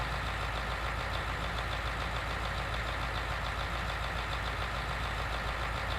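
A Fendt tractor engine in Farming Simulator 19 hums steadily at idle, a constant low droning rumble that holds unbroken and fairly loud for the whole stretch, with no talk over it.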